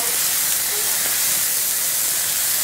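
Beef steaks sizzling loudly on a grill, a steady dense hiss of searing meat that stays even and close from start to finish.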